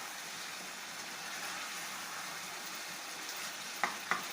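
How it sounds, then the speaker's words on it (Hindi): Chicken karahi with onions sizzling and frying over high heat in a pan, a continuous soft crackling hiss with two brief sharp stirring clinks near the end. "अब हम इसको तेज़ आंच पे एक दफ़ा फिर फ्राई करते हैं।"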